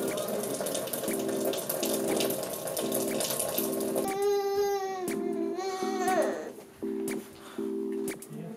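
Water runs steadily from a tap for a bath, a continuous splashing hiss in the background while a baby wails loudly over it and repeated electronic beeps sound.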